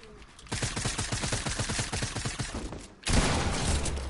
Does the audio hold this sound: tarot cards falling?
no